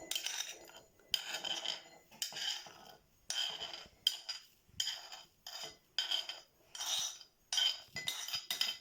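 A spoon stirs yeast and sugar in a glass, making quick bursts of metallic clinking and scraping in short repeated rounds, close up and fairly quiet, with brief pauses between bursts.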